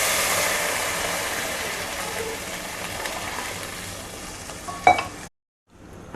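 Vegetable soup with salt and a cup of water comes to a boil in a pot, giving a steady bubbling hiss with a brief clink near the end before it drops to silence.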